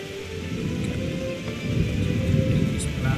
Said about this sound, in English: It's really rainy. Really rainy.